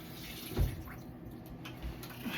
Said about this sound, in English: And I'm just going to rinse them off.